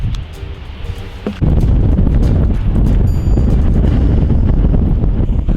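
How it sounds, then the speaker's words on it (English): Heavy wind buffets the microphone in a loud, continuous roar that surges stronger partway through, with no voices, at the top of Brimstone Head on Fogo Island, Newfoundland. "the wind is blowing so hard into the microphone"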